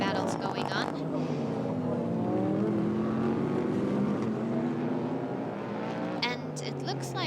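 Super GT race cars roaring down the Fuji Speedway home straight, a loud sustained engine drone with rising and falling pitch as cars pass, under steady commentary.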